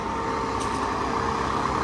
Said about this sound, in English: Well, there's the pump truck.